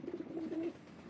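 A Rampuri pigeon gives a short, soft coo in a few pulsing low notes, close by and alone.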